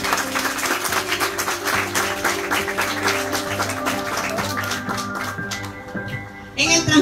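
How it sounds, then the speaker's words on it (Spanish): Guests applaud for the girl at a quinceañera celebration, clapping rolling along under music with sustained tones, thinning out before a louder burst near the end. "Un aplauso para la quinceañera."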